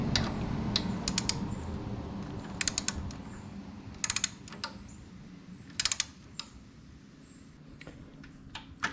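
Tightening a titanium swingarm pivot bolt on an Aprilia Tuareg 660 motorcycle to 110 Nm with a torque wrench, heard as several short bursts of quick ratcheting clicks spaced a second or two apart over a low steady background hum.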